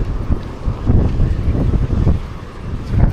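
Strong wind carrying dust roars against the microphone in loud, buffeting gusts, with low rumbling noise throughout and no voices.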